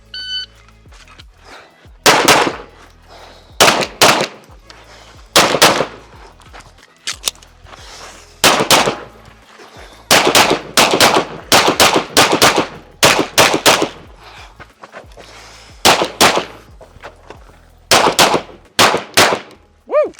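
Sharp, loud 1903 bolt-action rifle shots ring out one at a time at irregular intervals during a USPSA match, with short pauses between them and faint shuffling in the gaps.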